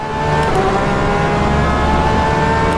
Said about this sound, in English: Just listen to that, guys. That engine is an absolute screamer.